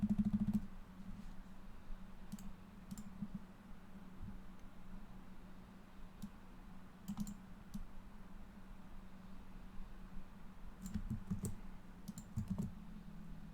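Computer keyboard keys clicked in quiet scattered bursts while using paste shortcuts, soft taps in small clusters over a low steady background hum.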